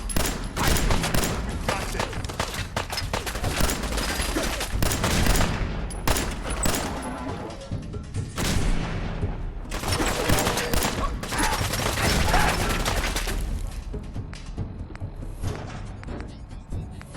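Gunfire in the video game Fallout 4, dense bursts of rapid shots and automatic fire crackling almost continuously with brief pauses, loud and close, with occasional voices shouting in the mix.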